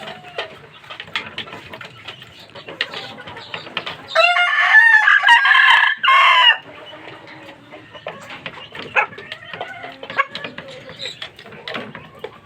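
A fighting rooster crows once, long and loud, close by amid steady clucking and scattered chicken noises from a coop.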